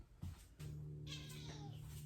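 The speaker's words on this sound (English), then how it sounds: "That is the saddest meow I have heard." A cat lets out a long, mournful meow, close by, rising and wavering over a steady low background hum.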